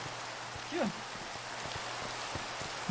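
Rain falls in the Minecraft video game during a modded PvP match. A steady, moderate hiss of rain is broken by faint periodic ticks, and a brief voice-like chirp comes through partway.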